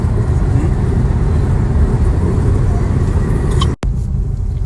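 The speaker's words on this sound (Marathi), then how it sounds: "हा गाडी चालवत आहेत" A car driven along a road makes a steady, loud engine and road rumble from inside the cabin, with a brief sharp dropout near the end before the drone resumes.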